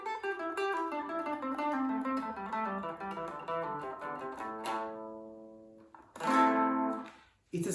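Single electric or acoustic guitar runs through a minor pentatonic scale, clear melodic notes rising and falling in steady rhythm, ending with a few sustained strummed chords, played alone and close.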